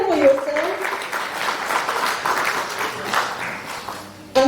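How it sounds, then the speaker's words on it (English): A workshop audience at a Rotary Club HIV and AIDS reduction project event applauds with a dense, steady patter of clapping at close range, and voices can be heard in the room. "So clap for yourself."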